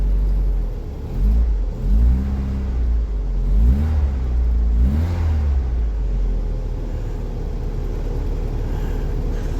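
An Austin Princess car engine runs steadily, with three quick revs rising and falling early on before settling back to an even idle, close and alone with no talk.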